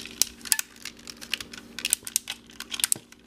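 Plastic parts of a Transformers Cybertron Defense Scattershot toy clicking and snapping as they are folded, a dense irregular run of small sharp clicks close by with no talk over them.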